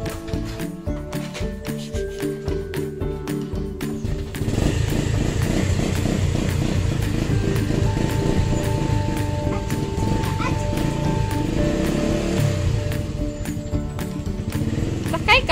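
A motorcycle engine starts up and settles into a steady running drone, with a voice and other talk over it before and during the idle.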